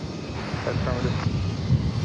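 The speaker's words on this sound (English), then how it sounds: "There's American Flight 2767. It's going to Seattle." An American Airlines Airbus A321 jet at DFW Airport gives a steady, broad engine roar from a distance, heard alongside someone talking.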